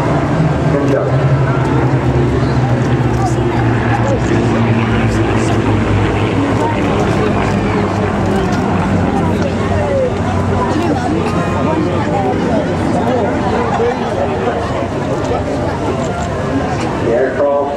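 A D-Day commemorative formation of aircraft passes over an English Riviera airshow with a loud, steady engine drone lasting throughout, while a commentator speaks over the public address and crowd noise.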